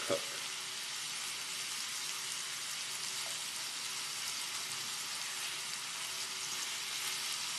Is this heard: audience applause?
no